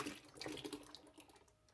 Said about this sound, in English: So we're going to pour in our melted soap.